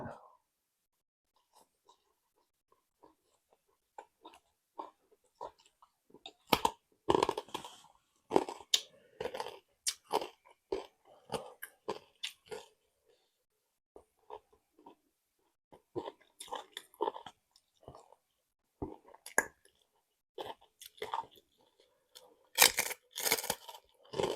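Khanom jeen Thai rice noodles with fermented fish sauce (pla ra) being eaten close up: quiet slurps and crunchy chewing bites come in uneven bursts, sparse at first and busier later, with no talk.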